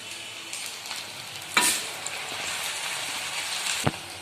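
Murukku dough, a crisp snack made from leftover rice, frying in hot oil, giving a steady close sizzle with a few sharper pops and crackles and no talk.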